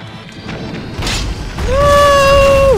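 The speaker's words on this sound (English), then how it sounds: "Destruction, explosions, my favorite." Explosions in the robot combat game Clone Drone in the Danger Zone: loud booming crashes and debris bursts, followed by a rising, sustained electronic tone as the destruction settles.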